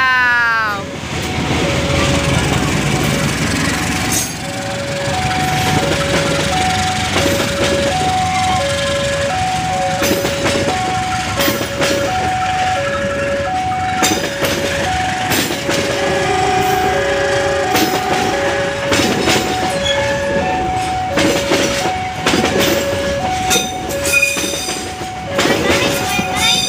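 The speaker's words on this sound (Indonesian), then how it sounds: "nah itu dia kereta api lokal Bandaraya yang dibawa oleh Bapak Angkos sudah berangkat dari stasiun Cicalengka" A local train pulls away from Cicalengka station in Indonesia with steady rumbling and clacking wheels, while a repeating two-tone bell or chime rings nearby throughout.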